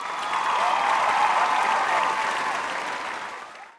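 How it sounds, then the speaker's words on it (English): A studio audience applauds as a guest is brought onto a late-night style talk show, a dense, steady wash of clapping that holds strong for about three seconds before tapering off. "A big applause for Charlemagne."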